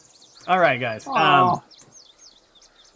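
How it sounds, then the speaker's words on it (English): Birdsong from an outdoor ambience track plays during a Dungeons & Dragons Lost Mine of Phandelver session: faint, high, scattered chirps run continuously in the background while a voice talks over the first half. "So you can hear some birds chirping."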